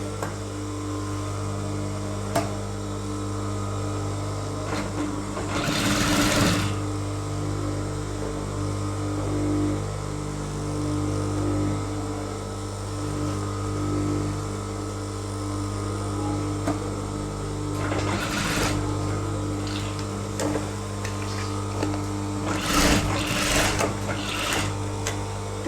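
Sewing machine running in short bursts while stitching elastic trousers for a small child, the loud clatter rising three times over a steady mains hum, with no voices between runs.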